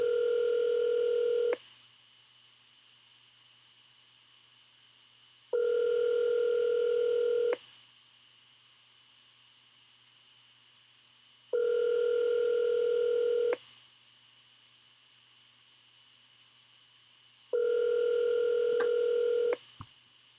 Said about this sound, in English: All right, here we go. Ringing.